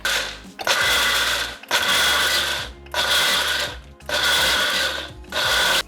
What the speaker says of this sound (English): If you have a food processor, that actually works even better.